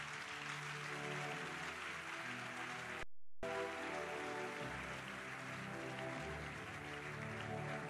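A church congregation applauds loudly and continuously, a dense wash of clapping like heavy rain, with a short silent gap partway through and a low musical hum underneath.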